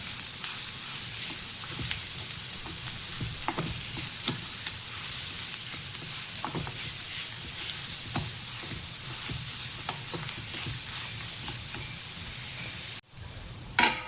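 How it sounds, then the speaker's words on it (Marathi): Jackfruit vegetable sautéing with onions and spices in a pan for a Konkani dish, a steady close sizzle and crackle with occasional stirring scrapes, cutting off abruptly near the end before a brief clatter. "मस्त कांद्यामध्ये भाजी आपल्याला परतून घ्यायची आहे।"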